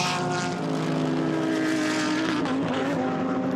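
Audi GT race car at a Blancpain GT Series event at Silverstone, a loud sustained engine roar with a shifting harmonic pitch as it passes close by, no voices audible.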